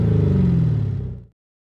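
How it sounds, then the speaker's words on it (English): A gasser-style drag race car with an electronically switched exhaust gives a short, loud, deep rumbling rev at close range, lasting just over a second before cutting off abruptly into silence. "Give your ride that gasser sound it deserves."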